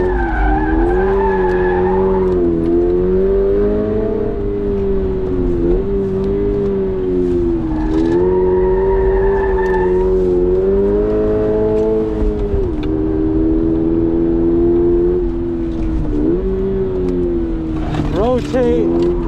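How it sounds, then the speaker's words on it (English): A stock 2022 Subaru BRZ pushed into power oversteer drift, its engine droning and shifting pitch steadily while the tires squeal loudly and continuously through the slide, with several rising surges as the car rotates. "Time for some power oversteer here."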